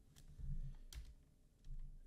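Typing on a computer keyboard during a FIFA 23 career mode session, a quick run of light clicking keystrokes in small bursts, close and fairly quiet, with no talking.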